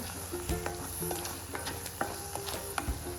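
Spices being sautéed in a pan for a shev bhaji, a steady moderate sizzle with intermittent scraping and tapping of a spoon against the vessel, close and without talk.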